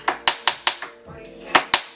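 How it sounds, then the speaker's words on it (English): A small hammer lightly taps a part into place on the top end of a 2009 Kawasaki KX85 motorcycle engine. About seven crisp metallic taps come in an even rhythm, with a short pause before the last two. "I just kind of took this little hammer and just lightly tapped up top"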